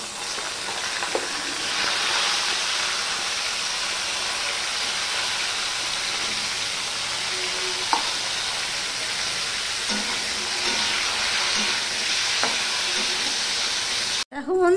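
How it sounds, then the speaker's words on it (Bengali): Cauliflower florets fry in hot salted oil, a steady close sizzle and crackle running the whole time, with a few faint stirring clinks, then a brief cutoff near the end. "সবার প্রথমে আমি ফুলকপিটা ভেজে নেব।"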